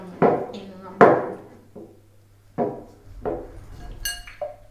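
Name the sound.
peeled San Marzano tomatoes put into a bowl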